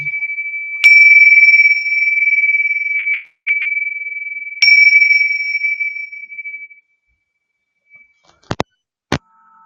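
Bells of purification ring in a calm spiritual setting, several clear sustained metallic tones struck a few seconds apart and left to decay, followed by two sharp, brief strikes near the end, loud and with no voices.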